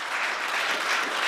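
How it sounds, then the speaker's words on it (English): Audience at a conference applauding the event sponsors, a steady wash of hand claps blending into a dense, even roar that holds at moderate level throughout the short moment. "So big round of applause to all of our sponsors"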